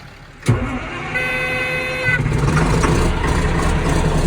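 A Caterpillar D6T dozer with a newly replaced starter cranks with a sudden thump, then its diesel engine catches and settles into a steady, rumbling idle that grows slightly louder and rougher.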